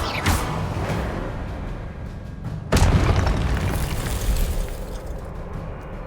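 Spell-casting in Hogwarts Legacy lands as a pair of heavy booming impacts with a whooshing burst, set against a dense, steady bed of game ambience.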